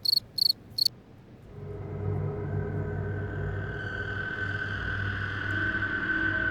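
Crickets chirp at night in a dense, continuous outdoor chorus that swells steadily, preceded by a few sharp, separate high chirps close by.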